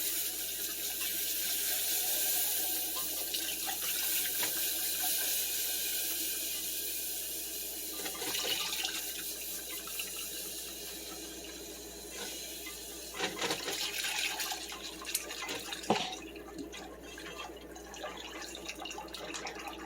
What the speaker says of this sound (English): I'm going to go ahead and just slowly pour this in and stirring constantly.